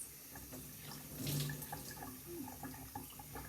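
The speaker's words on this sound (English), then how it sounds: "we just rinse off and wash our faces" Tap water runs into a sink while a face is rinsed, a soft continuous stream with small splashing swells near the middle, heard alone and fairly faint.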